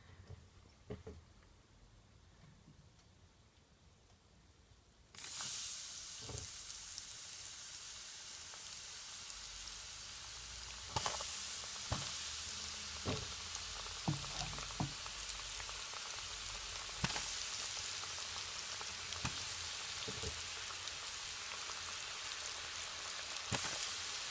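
Pork pieces for sweet and sour pork frying in hot oil, a dense, steady sizzle that surges loudly as the batch goes in and keeps crackling with sharp pops and spatters throughout, close and continuous.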